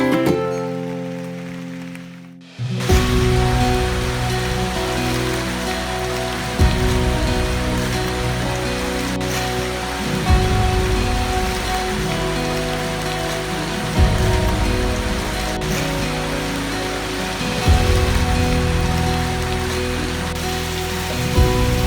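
Heavy rain pours steadily on a mountain trail up Mount Pangrango in West Java, a dense continuous hiss with low rumbling surges; it starts abruptly after a quiet moment and stays loud throughout.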